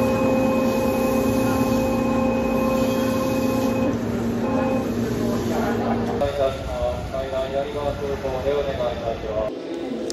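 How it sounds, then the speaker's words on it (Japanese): A Hanshin 8000 series special express train pulls into Koshien station, with steady motor whine and tones shifting as it slows, followed by rumbling wheels and brakes, while a person talks over it. "今回一番の目玉である臨時特急列車が甲子園駅へいよいよ入線というわけです。"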